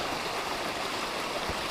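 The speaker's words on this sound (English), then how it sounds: "We have this beautiful little waterfall that's greeting us" A small waterfall beside a hiking trail near Overland Lake in the Ruby Mountains gives a steady, dense rush of falling water, close and constant with no voices.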